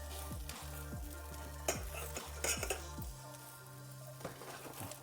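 Tortilla quesadilla grilling in a frying pan, with a steady close sizzle and spatters throughout, and occasional soft clinks and scrapes of a utensil against the pan.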